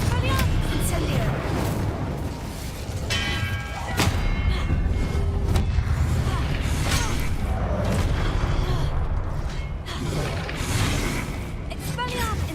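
Spell blasts from Incendio and Confringo in Hogwarts Legacy, a steady run of booming thuds and fiery bursts firing every second or two over continuous battle noise, with a voice speaking throughout.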